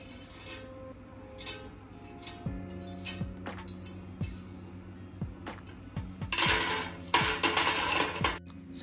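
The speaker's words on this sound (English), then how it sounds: "I've seen some coins in my drawer, so I thought of arranging them in my new candle glass" Metal coins drop one after another into a cleaned candle glass, each landing with a sharp clink, then a quick rattling burst of several coins poured in near the end, with no talk.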